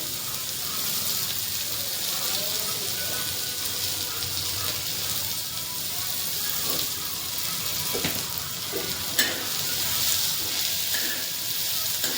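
Masala and drumstick pods frying in a pan, a dense continuous sizzle with a few sharp crackles and faint stirring, close and steady throughout.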